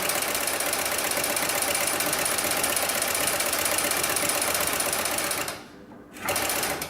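Double-feed sewing machine stitching webbing for tie-down straps and slings, a loud steady mechanical whir in reverse and then forward, briefly stopping near the end before starting again.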